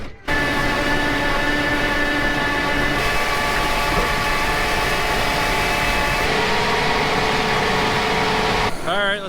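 A tractor engine drones steadily and loudly while tilling a field after fertilizer spreading, a constant close mechanical roar with a brief change near the end.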